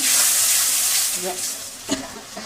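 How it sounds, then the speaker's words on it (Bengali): Spice paste for a yogurt crab curry sizzles and hisses in a hot pan as a little water is added and stirred in, with a sharp clink of a stirring utensil near the end. "একটু জল দেব, অল্প জল দিয়ে কষতে থাকবো"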